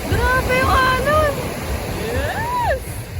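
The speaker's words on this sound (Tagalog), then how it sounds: "Grabe yung alon!" Surf breaking at a beach in La Union, a steady loud wash of waves and wind buffeting the microphone, with excited voices talking over it throughout.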